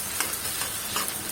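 Onions sizzling in hot oil with panch phoron for a chicken pickle, an even close crackle with faint ticks throughout and no voice.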